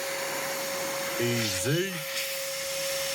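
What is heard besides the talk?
air nozzle blowing liquid off a GameCube disc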